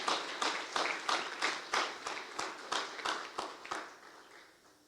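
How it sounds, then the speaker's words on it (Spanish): A church congregation claps in a steady rhythm of distinct, evenly spaced beats, fairly quiet and slightly distant, with little else around it. "Dale un aplauso al que es Rey de Reyes y Señor de Señores."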